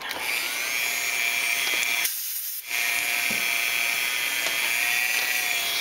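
A small high-speed drill bores into a photo-etch model kit part, whining steadily at full speed, briefly cutting out and restarting midway, close and loud with no talk.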